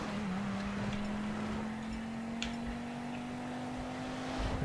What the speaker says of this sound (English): This car was meant for off-road.